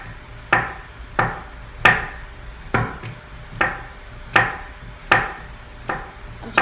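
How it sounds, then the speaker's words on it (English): A knife chops salad ingredients on a cutting board in a home kitchen, giving a steady run of about ten sharp, close chops spaced roughly half a second to a second apart, with nothing else heard. "I'm just like totally just chopping whatever"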